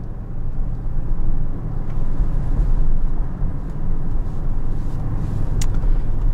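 An Audi RS6 heard from inside the cabin while cruising gently in daylight traffic, a continuous low engine and road rumble with a steady drone and no sharp revving.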